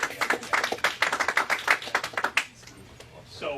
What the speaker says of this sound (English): Everyone give Sarah a round of applause.